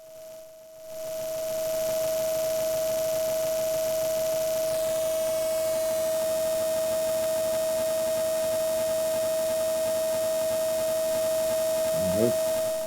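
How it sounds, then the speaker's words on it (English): A ModAmp Module 1005 synthesizer holds a steady pure sine-wave tone throughout, with a buzzier pulse-wave layer fading in after a few seconds; continuous, electronic, no voices. "I leave one at sine wave and go with the other sound to pulse wave."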